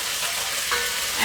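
Lamb and masala for dahl gosht fry in a pan with a steady, close hiss and sizzle throughout the short moment.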